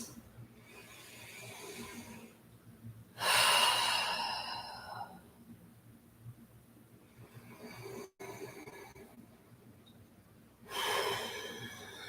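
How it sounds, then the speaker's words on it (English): Deep breathing during a yoga class: two long, audible breaths, each a loud rushing exhale of a few seconds, separated by quiet room tone and a brief click, close to the microphone. "And breathe. Couple deep inhales and exhales."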